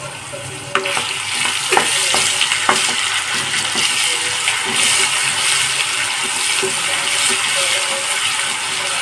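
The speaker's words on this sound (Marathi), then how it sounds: "आणि आता हे सर्व मिक्स करून घ्यायचं." Green chili paste with asafoetida is stirred into hot oil in a pan for bhogi bhaji khengat, giving a loud, constant sizzle and hiss with occasional clicks of a spoon against the pan.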